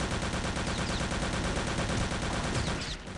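Gunfire in Return to Castle Wolfenstein VR, a continuous stream of rapid shots at a steady rhythm, fairly loud and dense, cutting off abruptly near the end, no talking.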